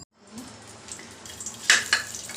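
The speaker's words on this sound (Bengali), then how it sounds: "এই সর্ষে আর কাঁচা লঙ্কা ফোড়ন দিলাম" Mustard seeds and green chillies tempering in hot oil crackle close by, a hiss that builds, then sharp spitting bursts near the end.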